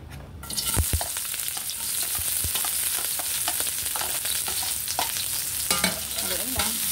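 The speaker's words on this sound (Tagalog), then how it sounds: "Gisa lang natin yung sibuyas." Onions sautéing in a little hot oil in a pan, a loud continuous close sizzle broken by sharp clicks and scrapes of a spatula stirring.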